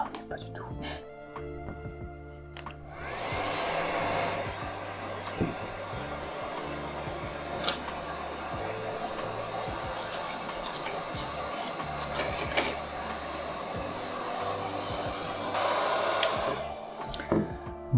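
A heat gun blows a steady, whooshing airflow at close range while heating the back of a Galaxy S7 phone to open it, with scattered clicks and handling noises and someone talking at times.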